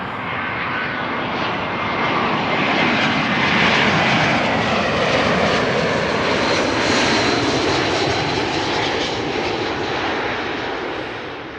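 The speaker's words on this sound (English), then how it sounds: "This is Aegean, flight 3624, arriving from Athens, an A321." An Aegean Airbus A321 taxis at Amsterdam Schiphol, its jet engines giving a loud, steady roar that swells slightly and then holds, heard alone without voices.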